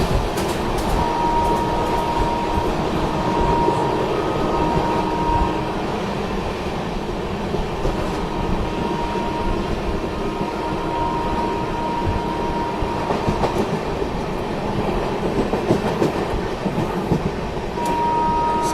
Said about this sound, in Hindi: गजब की रफ्तार बना ली अपनी गाड़ी ने, देखे फ्लैट 130।